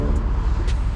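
The 500 bhp Mercedes GLC 63 S with its V8 bi-turbo engine roars under hard acceleration on a rainy drive. A loud, dense engine drone is heard from inside the car, with road noise behind it.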